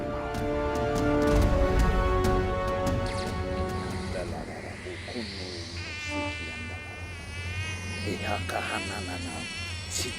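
Insects buzz loudly and continuously up close, with sustained whining tones that shift in pitch as they swarm, set against a dramatic scene with background music and effects.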